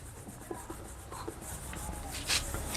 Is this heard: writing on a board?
yes